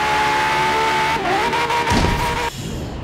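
Race car in Forza Horizon 3 on a Hot Wheels circuit, engine droning loudly before braking hard into a brief, gritty tire skid, then cutting to a quieter rumble.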